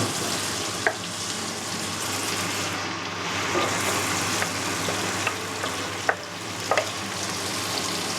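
Three large fennel bulbs hiss and sizzle steadily in a hot frying pan in a home kitchen, a continuous close frying roar with a few sharp clicks and stirring knocks, no talk.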